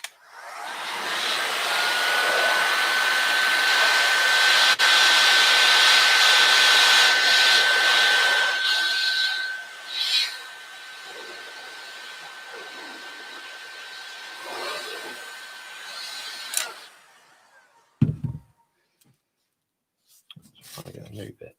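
A heat tool whirs loudly and steadily at close range for about nine seconds while warming material for a ripsaw sign, then cuts out, followed by a few soft handling clicks and knocks; a person talks over part of it.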